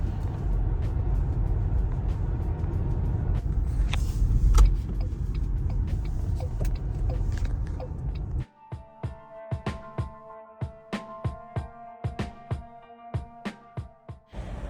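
A car moves slowly through a school zone in the United States, steady engine and road rumble from inside the cabin for about eight seconds, then quieter with a run of sharp clicks and knocks.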